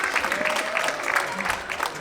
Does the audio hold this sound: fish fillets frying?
no